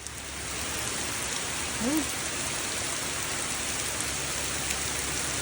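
Steady rain pours down in a dense, even hiss, close and constant throughout.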